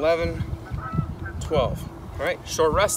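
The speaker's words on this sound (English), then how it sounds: "You can hear all the birds going off all over around me right now." Geese honk repeatedly outdoors in a loud, overlapping chorus, with a man counting aloud over them.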